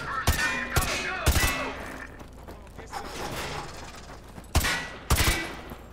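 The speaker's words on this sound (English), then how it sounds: "It's like firing two or three bullets per shot." MP5 gunfire in Call of Duty Modern Warfare 2 Remastered campaign: sharp, loud bursts of two or three rapid shots repeated several times, with ringing tails and mechanical clatter between volleys.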